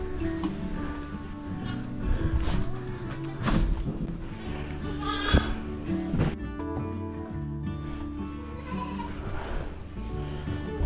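Goats bleat repeatedly inside a barn on a snowy day, with several loud, close cries spread over a steady low background and some dull thumps.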